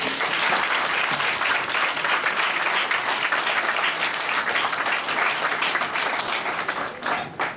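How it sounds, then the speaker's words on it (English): Loud, sustained audience applause at a women's day brunch, dense clapping from many hands held steady for several seconds before tapering slightly at the end. "Ladies, give these ladies a round of applause."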